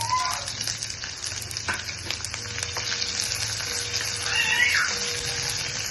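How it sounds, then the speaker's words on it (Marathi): Onion frying in hot oil in a pan gives a steady, loud sizzle throughout, with a few faint clinks over the continuous hiss. "तर मी याच्यामध्ये तेल टाकते हा कांदा आपण प्रथम टाकू"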